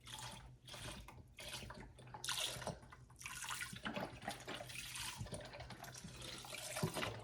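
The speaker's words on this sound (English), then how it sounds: "So I put the meat in first, and then we're gonna go ahead and we're gonna put the broth in." Broth poured into a pot over meat for a savory supper, a quiet continuous splashing and trickling of liquid, faint and close, with a few louder gushes.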